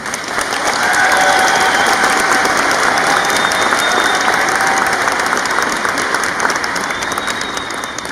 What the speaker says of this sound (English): Can I get a round of applause for these amazing mentors?